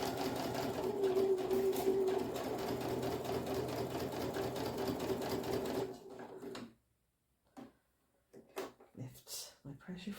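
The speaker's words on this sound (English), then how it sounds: "lower your sewing machine speed" A sewing machine stitches a fabric bookmark in a steady, fast mechanical whir for about six seconds, then stops. A few quiet clicks and handling sounds follow.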